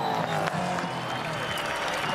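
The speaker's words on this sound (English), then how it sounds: "the crowd reaction was fantastic, as you can hear them in the background" A race crowd cheers and applauds at the Supercars Perth SuperSprint, a broad, continuous roar of clapping and voices at moderate loudness, with a commentator speaking over it.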